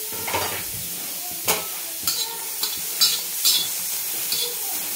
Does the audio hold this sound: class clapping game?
no